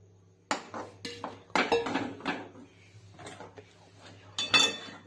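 A utensil mixes peanut powder into ghee and jaggery in a pan, making irregular sharp metal clinks and scrapes in short bursts, close by with no voices.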